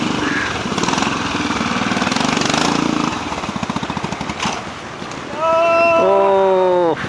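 A BSA C15 single-cylinder motorcycle ridden by a clubman competitor at a trials event, its engine chugging steadily up close, then revving into a loud rising whine near the end.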